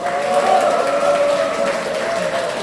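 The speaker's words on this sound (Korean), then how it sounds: "박수로 한번 모시겠습니다" Audience applause greeting a former National Assembly member at a university students' support rally in a Daegu party office, steady clapping layered over a sustained musical tone.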